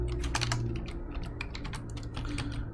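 Keys clatter on a computer keyboard as a formula is typed in, a close, quick run of irregular clicks over a low steady hum, with no voice.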